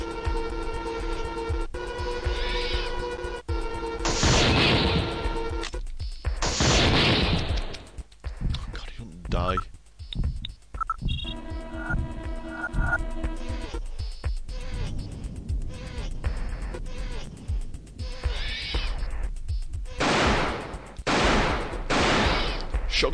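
Gunfire in the survival-horror video game Alone in the Dark: The New Nightmare, a shotgun among dense repeated blasts and game effects, loud and continuous with brief gaps, while a voice talks over it.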